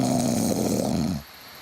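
A man snores loudly and close, one long rasping rumbling inhale that cuts off abruptly, leaving near silence.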